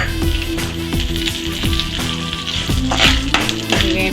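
Cumin seeds and dried red chillies fry in hot oil, a loud close crackling sizzle with rapid pops and spatters running continuously, punctuated by a few stirring scrapes.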